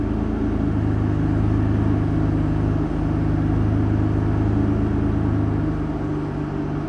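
An Aston Martin DB9 idles while parked with the brake on and no electrical load, giving a steady, loud, even low rumble that holds unchanged throughout, with no voices.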